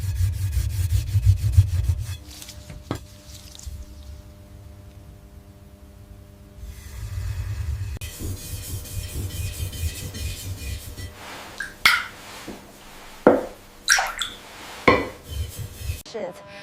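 A hand-forged katana blade is worked against a polishing stone, giving low rubbing and scraping strokes over a steady background hum, ending in a run of sharper, evenly spaced strokes.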